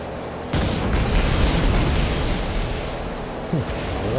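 A naval unit opens fire on an enemy ship in the Battlestations Midway video game, a loud booming blast that rumbles on for several seconds, with a second sharp report near the end.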